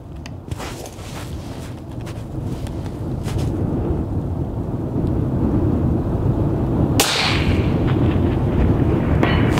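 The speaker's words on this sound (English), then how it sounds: "Even at 581 yards, there is a time delay from the shot to the sound of the steel hitting." Rifle shots fired on a long-range course, with the bullet striking a steel target 581 yards away; one sharp loud report around the middle stands out over steady wind-buffeted outdoor rumble, with faint distant thumps elsewhere.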